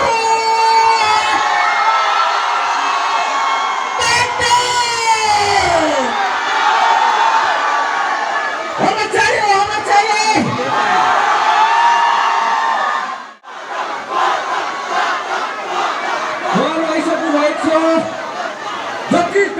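A crowd at an outdoor entertainment event in the rain cheers and shouts, with loud whoops and overlapping voices rising and falling, and a sharp knock partway through.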